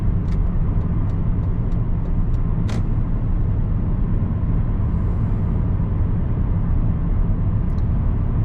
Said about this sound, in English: Here we have a 2003 Chevrolet Monte Carlo.